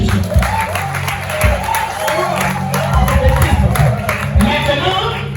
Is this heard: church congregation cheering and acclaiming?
yes